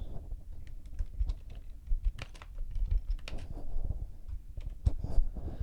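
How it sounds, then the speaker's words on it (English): Text being typed on a computer keyboard while editing in WordPress, a quiet, irregular stream of close key clicks and taps with brief pauses between bursts. "I will type out some text."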